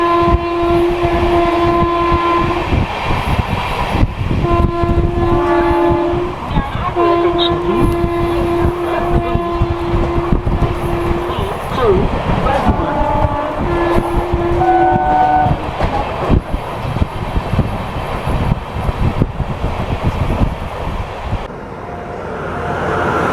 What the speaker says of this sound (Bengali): এই ট্রেনে জেনারেলে আমি এখন জার্নি করছি। ট্রেন ছাত্রে কিন্তু ট্রেন সুন্দর গতি নিয়ে নিয়েছে।